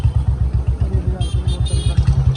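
A motorcycle passes along a quiet market street, its close engine thumping in a fast, even rhythm, with a faint high whine appearing midway.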